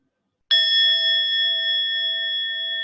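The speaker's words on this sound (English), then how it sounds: "Hearing that sound of the bell," A mindfulness bell is struck once after a brief silence. It gives a clear ringing tone that decays slowly and sustains to the end, alone with no voices.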